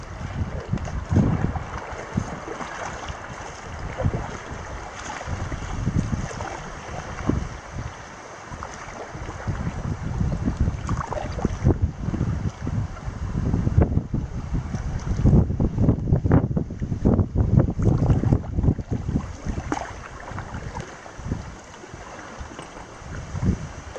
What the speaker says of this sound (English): I don't know if you're going to be able to hear me over the wind noise here.